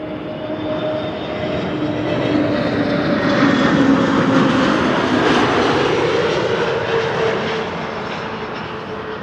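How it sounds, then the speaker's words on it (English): An EasyJet Airbus A320neo airliner arrives at Amsterdam Schiphol, its broad engine roar swelling as it passes fairly close, then easing off, loud and steady with no talk. "EasyJet, flight 2921, arriving from Bristol, A320neo"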